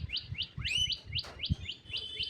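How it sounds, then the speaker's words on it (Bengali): A small bird perched on a wire repeats quick, bright chirping calls in a steady series, close and clear, with faint low thumps beneath. "একটা পাখি ডাকছে খুব সুন্দর, ওই যে ছোট্ট পাখি তারে বসে আছে দেখো"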